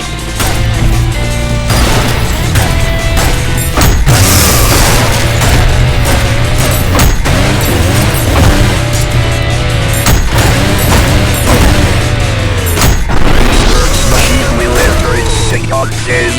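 Loud, dense gameplay from ULTRAKILL: repeated shotgun blasts and booming explosions crash over a constant driving background, with sharp hits recurring throughout.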